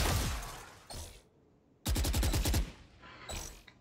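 Gunfire in the Valorant shooting tutorial, aimed at practice robots: a short burst at the start, single shots, then a loud rapid automatic volley and a final shot, all close and without talk.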